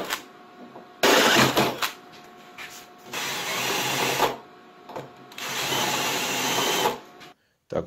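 An angle grinder smooths a small bump on a steel part of a homemade belt grinder. It gives three loud bursts of harsh, rushing grinding, separated by brief quieter pauses, with a faint voice in the gaps.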